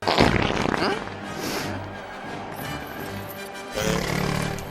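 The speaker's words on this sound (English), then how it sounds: "That animal that farts at Jar Jar and then turns around and looks at him." A creature in a bustling desert bazaar on Tatooine from Star Wars Episode I lets out a loud, wet, sputtering fart that rumbles for several seconds and then swells again near the end, with no talking over it.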